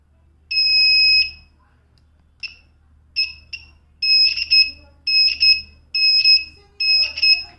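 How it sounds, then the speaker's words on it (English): An Arduino buzzer triggered by a water sensor beeps in shrill electronic tones, first with one long held beep and then with a run of short, uneven bursts, close and loud over a faint low hum. "when I dip this sensor into the water, the LED would light and the buzzer would go on"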